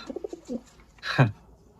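Female domestic pigeons coo up close in a quiet loft, a few soft low notes followed by one fuller, louder coo.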